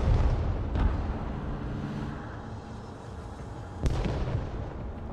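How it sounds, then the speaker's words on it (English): Bushmaster autocannon fire in the strategy game Broken Arrow, a rumbling barrage of booms with sharp cracks near the start and again later over a dense battle din, no talking. "Get that Bushmaster cracking."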